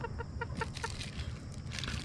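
Several chickens cluck close by at a backyard coop, a quick run of short repeated clucks over a low, steady background murmur, with no talk.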